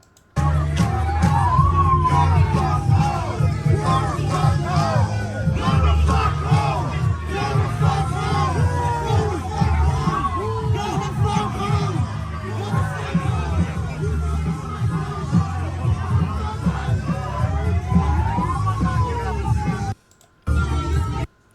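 A large protest crowd shouts and chants continuously, loud and close, with repeated rising cries and a steady babble of voices, broken by a brief dropout near the end.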